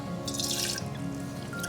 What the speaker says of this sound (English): Next, I'm going to add the apple cider vinegar